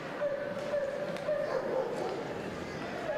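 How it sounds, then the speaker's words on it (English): Dogs bark repeatedly in a steady, busy stream through the crowd noise at a Saturday afternoon AHL hockey game between Abbotsford Canucks and San Jose Barracuda, moderately loud with arena ambience underneath. "You can hear the dogs barking."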